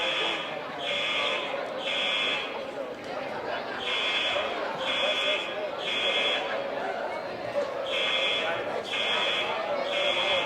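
Fire alarm sounding in a high school gym during a wrestling meet, a loud repeating buzzing horn in regular on-off pulses about once a second, with an announcer talking over it and crowd noise beneath.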